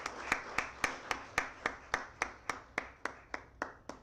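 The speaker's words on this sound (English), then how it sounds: "I'm sure that this needs a big round of applause, at least from this side." Audience applause after a medical CME lecture on coronary CT angiography comes across as a steady, even run of sharp claps, close and moderately loud, holding a regular beat for about four seconds with no talking.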